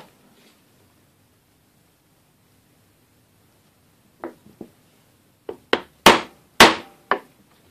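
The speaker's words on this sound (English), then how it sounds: "Use the chisel and define the line." Sharp wooden knocks of a chisel being struck across the grain to define a cut line for a mortise and tenon joint, several close, loud taps coming in a quick irregular cluster after a quiet stretch.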